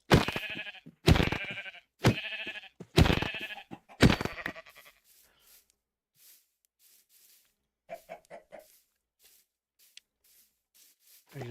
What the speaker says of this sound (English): There's actually another white sheep over here, and we just kill him.